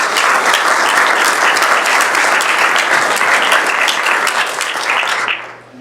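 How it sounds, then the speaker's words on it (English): An audience at an agricultural engineering presentation event breaks into dense, steady applause, many hands clapping close and loud for several seconds before tapering off at the end. "let's give this group a round."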